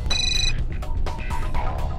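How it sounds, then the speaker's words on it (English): A mobile phone's text message alert plays loud and close, a short bright electronic chime with sustained tones, followed by further synthetic beeping notes. "you have a text from Chris Buchko."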